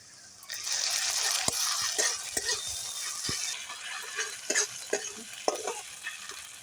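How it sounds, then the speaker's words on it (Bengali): Ginger garlic paste and onion frying in a pan, with a continuous soft sizzle and repeated spatula scrapes and stirring clicks, close and fairly quiet. "পেঁয়াজটা একটু ভাজা ভাজা হয়ে গেছে, এবার দিয়ে দেব আদা রসুনের পেস্ট।"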